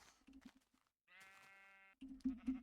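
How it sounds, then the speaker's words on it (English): A Minecraft sheep gives one drawn-out bleat, clear and alone, between patches of someone talking. "Sheep."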